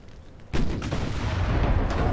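Naval shell hits and heavy gunfire from Ultimate Admiral: Dreadnoughts, with the Bismarck battling a fleet. After half a second of low quiet, loud booming blasts burst in and keep rolling densely to the end.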